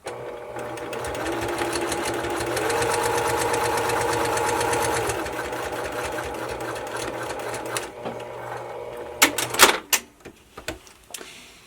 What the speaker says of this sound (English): you're going to sew from edge to edge at a 45-degree angle